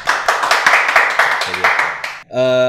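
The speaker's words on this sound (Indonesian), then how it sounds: "tepuk tangan dong untuk Pakong dong" A small group claps in quick irregular bursts during a podcast, fairly close, before the clapping stops and a tonal musical sound takes over at the end.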